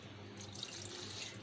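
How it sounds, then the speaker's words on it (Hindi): Water poured into a pot of beef for shami kabab, a steady, splashing stream that starts abruptly and runs continuously, close and fairly quiet, with no talking. "पानी यहाँ पे मैं 1 छोटी प्याली पानी डाल रही हूँ"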